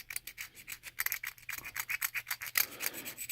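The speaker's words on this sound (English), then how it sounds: "you can just basically scrape out all the guck, all the crud" Thick gunk and crud being scraped out of a carburetor with a tool, a close, steady run of short rasping strokes in quick rhythmic succession, with no talking.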